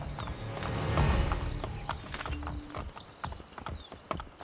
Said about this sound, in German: Katharina bei ihrer Flucht aus der Engelsburg zu Pferd eskortieren